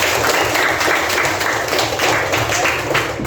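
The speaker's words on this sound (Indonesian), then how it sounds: "Beri tepuk tangan untuk kelompok 2." Steady applause from a class of students in a classroom, dense continuous clapping throughout with no pauses.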